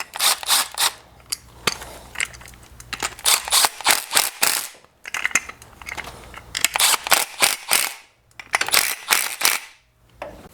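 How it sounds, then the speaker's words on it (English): A hand ratchet tightens the bolts on a Murray snowblower's rubber drive disc, giving close, loud bursts of rapid metallic clicking separated by short pauses as each bolt is turned in evenly. "Okay, now I'll just tighten these up evenly."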